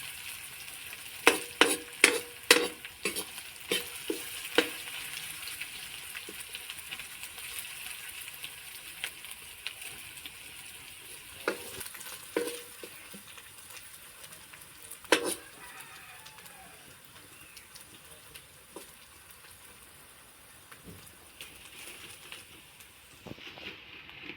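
Whole spices with panch phoron sizzle and crackle in hot oil for a chickpea ghugni, with sharp pops and spits clustered early and then a quieter, steady fry, no talking.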